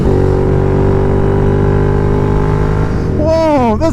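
A Royal Enfield Interceptor motorcycle fitted with an S&S Qualifier 2-1 exhaust pulls hard under steady, loud acceleration. The engine note is continuous and close, and a voice cuts in near the end.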